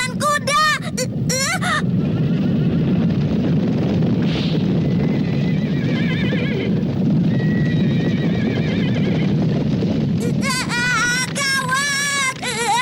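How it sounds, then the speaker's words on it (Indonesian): A herd of horses gallops past with a heavy continuous rumble of hooves, loud and close, while several shrill whinnies and neighs break out at the start and end. "itu adalah sekawanan kuda."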